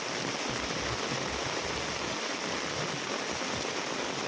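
Heavy rain pours in Patan with water flowing through flooded streets, making a dense, unbroken roar of falling water that stays loud and steady throughout.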